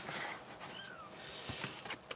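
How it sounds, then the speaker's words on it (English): A cat indoors gives a short, faint meow, a thin rising cry barely above the room noise, followed by a few light rustles. "What are you meowing about, baby?"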